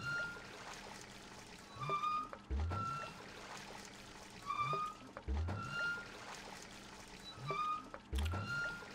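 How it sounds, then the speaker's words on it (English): Repeated creaking strokes of a well hand pump in the video game Rust, each followed by a splashing pour of water, coming in a slow rhythm about every two to three seconds, close and fairly loud. "so you do get hungry pumping water"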